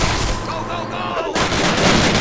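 Gunfire from Call of Duty's Battle of the Bulge setting, including MG34 machine guns: dense, loud bursts of shots over game music and battle noise, with someone talking over it.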